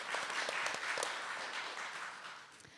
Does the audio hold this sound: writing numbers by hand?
no